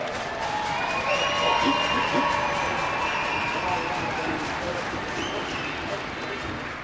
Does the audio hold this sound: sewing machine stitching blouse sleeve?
no